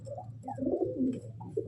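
A pigeon coos softly in a low, rolling burst, close by and alone, with no voices.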